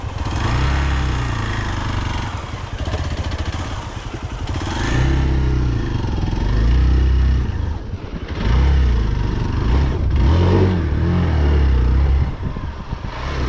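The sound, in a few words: motorcycle engine running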